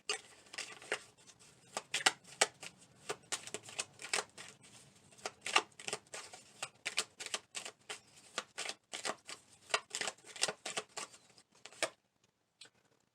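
A hand shuffling and pulling oracle message cards, a steady patter of quick papery flicks and snaps close up for about twelve seconds before stopping, with no talking.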